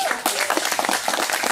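A stand-up comedy show audience claps and cheers together, a dense, steady wash of applause from a full room with scattered shouts, filling the whole short stretch without pause.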